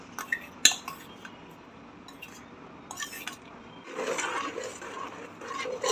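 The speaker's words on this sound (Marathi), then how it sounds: "मेथी टाकून मिक्स करून घेऊ" A spoon stirring fenugreek seeds into melted jaggery for methi laddu: a few sharp metal clinks against the pan, then a softer, sticky scraping and squishing as the mixture is worked.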